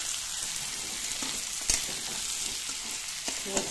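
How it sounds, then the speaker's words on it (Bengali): Fried pointed gourd and potato sizzle steadily as they are sautéed in a pan of ghee, with a few sharp spatula scrapes standing out over the constant broad frying hiss. "এর মধ্যে ভেজে রাখা পটল আর আলু আমি দিয়ে দেবো, দিয়ে একটু কষিয়ে নেব।"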